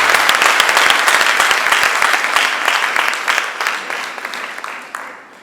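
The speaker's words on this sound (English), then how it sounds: "Can you give another round of applause?" Dense applause from a crowd of female students at a leadership conference, steady and loud before thinning slightly toward the end, with no talk over it.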